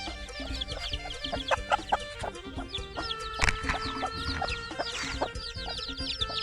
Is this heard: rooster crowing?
yes